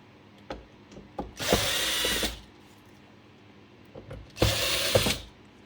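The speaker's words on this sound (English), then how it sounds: "So all the weighted section screws removed." Power screwdriver removing screws from the weighted section of a Technics SL-1210MK2 turntable: two loud, close whirring bursts of about a second each, separated by faint clicks and handling noise.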